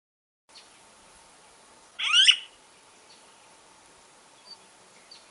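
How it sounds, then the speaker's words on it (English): Smooth-billed ani alarm call from playback, a single loud burst of harsh, chattering calls near the middle, with faint scattered bird notes and steady insect-like background hiss around it. "You'll hear the ani alarm that's just coming from the playback, and then you'll see a bird come in from the left"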